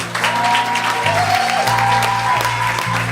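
A church congregation applauds during a service, producing a loud wash of clapping and crowd noise over sustained music tones and sung notes.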